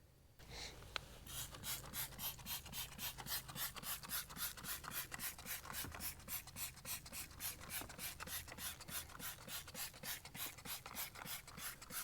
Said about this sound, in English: I'm just brushing that back and forth.